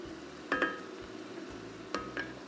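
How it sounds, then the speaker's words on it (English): Minced garlic sizzles in a pot of softened vegetables for chicken noodle soup, a quiet steady fry broken by a few clinks of a utensil stirring against the pot. "just stir this in and cook the garlic until it's nice and fragrant"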